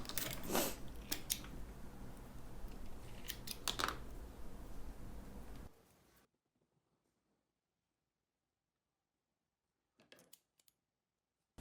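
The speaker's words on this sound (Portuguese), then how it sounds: "eu já tô cortando as duas tirinhas" Scissors snip through fabric to cut two narrow strips for a mini bag, a few close cutting strokes followed by near silence and then a brief faint snip.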